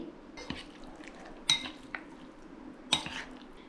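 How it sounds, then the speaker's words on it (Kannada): Washed chicken being mixed with spices in a bowl for crispy kabab, heard as quiet, steady handling noise broken by two sharp, louder clinks of a bowl or utensil, with no talking. "ತೊಳೆದಿಟ್ಟ ಚಿಕನನ್ನು ಹಾಕುವ ಹಾಕಿ ಚೆನ್ನಾಗಿ ಮಿಕ್ಸ್ ಮಾಡಿ"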